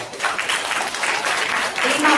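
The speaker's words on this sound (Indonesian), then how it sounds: "Tepuk tangan untuk Melda." A school audience at an orientation opening ceremony applauds a student named Melda, a short burst of steady clapping throughout, fairly close, with a voice briefly audible underneath.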